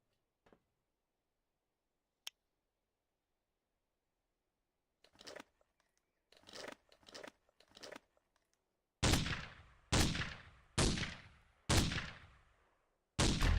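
Gunfire in a first-person shooter game built on a custom engine: a couple of isolated clicks, then bursts of sharp shots growing into several loud, evenly spaced blasts with decaying tails; a voice speaks briefly.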